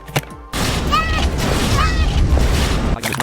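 A large grenade detonates in a video game, a sudden loud blast followed by a long rumbling roar with whistling debris, close and filling the scene.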